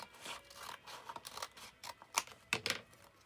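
Paper being cut across with scissors while making a small envelope folio, a string of crisp snips and soft rustles at close range, uneven in rhythm and fairly quiet.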